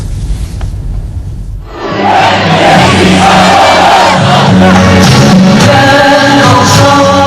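A huge protest crowd of tens of thousands in Sıhhiye Square, Ankara, roars and chants in unison, loud and sustained, swelling in after a brief lower rumble.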